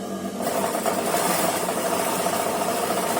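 A sewing machine stitches the seam of a frock, a steady, close mechanical whir and rattle that starts after a brief pause and runs continuously, with no voices.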